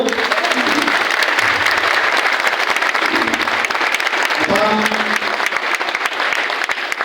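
Loud, dense applause from a convention-hall audience carries on throughout, with brief voices audible beneath the clapping.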